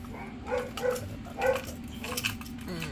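A dog barks and whines indoors during electrical work on a 20 amp outlet, a few moderate, uneven yelps and vocal bursts over a steady background hum.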